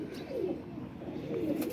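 Jakh Cheena pigeons cooing close by, soft low throaty coos rising and falling in two or three rolling phrases, fairly quiet against a faint background, no voices.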